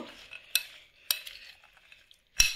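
Sprouted chickpeas being mixed with homemade tamarind pickle in a bowl, heard as a few sharp metallic spoon clinks against the dish and soft scraping stirs between them, close and fairly quiet, with no talking.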